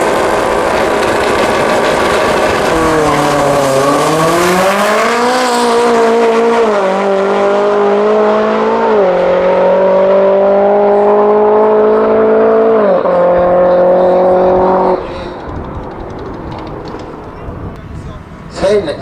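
A Ford Escort drag race car making a run at Manston Raceway Park on a cold day, its engine screaming loud through stepped gear changes as the pitch climbs and drops repeatedly before cutting off, with a voice talking over it.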